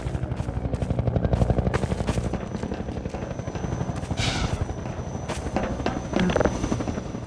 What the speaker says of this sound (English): Since you brought that chopper in on your tail, you want to maybe help us take it down?